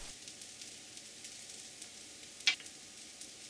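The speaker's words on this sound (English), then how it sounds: "Saute the chopped onion until it turns a golden brown." Chopped onion sizzles steadily in a frying pan as it sautés toward golden brown, a soft, even hiss with one brief sharper crackle partway through.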